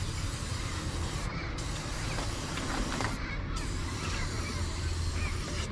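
A dusty air filter is sprayed out by hand: continuous loud hissing blast of air, steady throughout with a couple of brief dips in the upper hiss.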